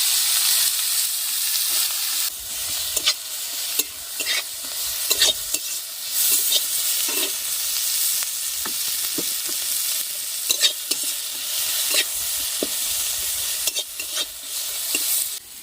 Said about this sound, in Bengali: ফোড়ন থেকে সুন্দর সেন্ট বার হয়েছে, এর মধ্যে দিয়ে দেবো কেটে রাখা পেঁয়াজগুলো